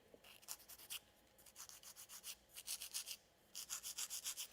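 A file rasps back and forth over an acrylic nail tip in quick, rhythmic strokes, grouped in short bursts with brief pauses, faint and close with no talking.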